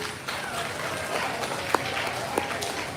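Audience clapping at a World Space Week inauguration event at an institution, a moderate, even spread of applause with a couple of sharp individual claps standing out.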